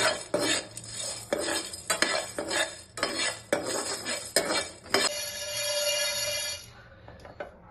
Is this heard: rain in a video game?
no